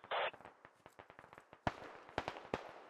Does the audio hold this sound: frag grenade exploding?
yes